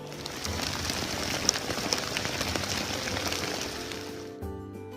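Rain patters on the water around a paddler out alone in wind and rain, a steady close crackling hiss that cuts off abruptly near the end.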